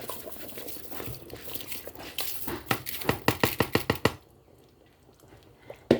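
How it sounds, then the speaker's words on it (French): Dry rice poured into a pot for chicken and rice with soumbara, a rustling patter that builds into a quick series of sharp grainy bursts, then stops, leaving quiet room noise. "On va rajouter notre riz à l'intérieur."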